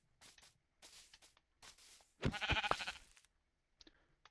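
Sheep in a video game bleat in several short separate calls, close and fairly quiet, with a louder wavering bleat in the middle and a faint click near the end.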